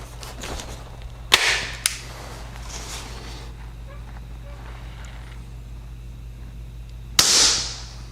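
Two sharp, close air-pistol shots from an SPA S400 .177 pellet pistol, one early and a louder one near the end, each a crisp crack over a steady low hum with no talk.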